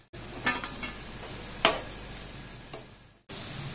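Arbi (taro) leaf pakoras fry in hot oil with a steady broadband sizzle, punctuated by a few sharper clinks and scrapes as pieces are stirred or turned, then a brief cut before the sizzle resumes.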